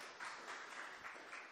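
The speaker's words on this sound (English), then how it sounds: "let's have a huge round of applause for Andrea and Molly" A seated audience gives presenters steady, moderately loud applause, a short continuous burst of many hands clapping together.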